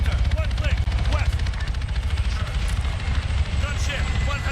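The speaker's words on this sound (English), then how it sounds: "Helicopter, one click. West." A helicopter flies nearby in the military game ARMA 3, its low, steady rotor rumble running throughout beneath voices.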